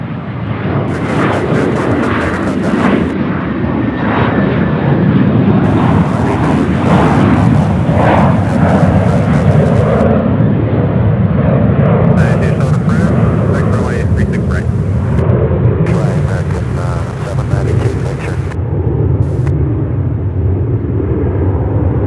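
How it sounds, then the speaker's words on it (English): A Piedmont airliner takes off at Charlotte Douglas International Airport, its loud, sustained jet engine roar filling the whole stretch, with tower radio chatter and nearby voices talking over it. "All right, the Piedmont taking off."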